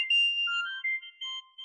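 A phone ringtone for an incoming call from the office, a clean electronic melody of short tones and pauses, clear and alone.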